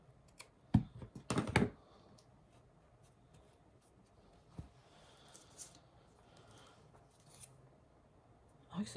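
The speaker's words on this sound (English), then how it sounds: "You can cut that off with a pair of scissors." A pair of scissors snipping a painted dowel for a valentine bouquet, a couple of sharp close cuts early, then a faint click or two and quiet handling sounds.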